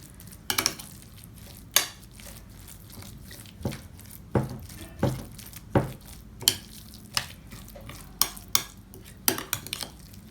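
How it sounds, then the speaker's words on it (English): Chicken momo filling with onion is mixed in a bowl, a spoon knocking against the sides in repeated sharp clinks at an uneven rhythm over a faint, quiet background. "So you will mix it well all together. Just combine all the mixtures very well."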